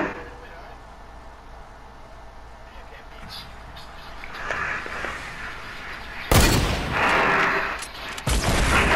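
Video game gunfire heard mostly in the latter part, with loud bursts of shots from a battle between two forts, a quieter rumble before it and speech mixed in.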